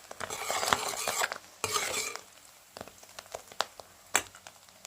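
Spicy egg curry with chili powder being mixed in a pan, brisk scraping and rustling stirs up close, with intermittent utensil taps and a faint sizzle underneath.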